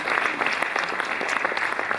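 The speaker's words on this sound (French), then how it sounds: "je crois qu'on peut l'applaudir" An audience at a conference on Réunion Island's whales and dolphins applauds steadily, with dense, even clapping from a seated crowd heard at moderate distance throughout.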